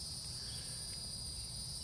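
Cicadas chirping in a steady, high, unbroken drone over a faint low background hum, quiet and continuous throughout.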